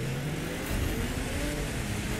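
A Nissan Skyline accelerates in the racing game The Crew 2, its engine revving steadily and loudly for a couple of seconds with a mid-pitched drone and no voices.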